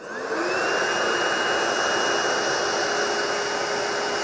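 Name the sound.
Ecovacs Deebot Pro 930 robot vacuum sucking up salt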